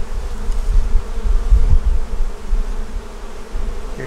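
Honeybees buzz around a hive that holds an unmarked queen not yet laying, a steady low drone that swells and eases, close by with no voices.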